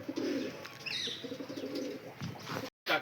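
Pigeons coo nearby in low, repeated warbling calls, with a higher bird call briefly heard and a short dropout near the end.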